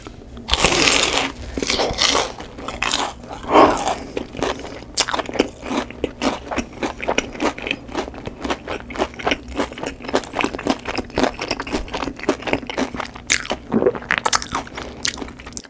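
Close, crisp bites and crunchy chewing of a mozzarella-cheddar corn dog, with dense repeated crunches and wet mouth sounds running steadily throughout and no talking.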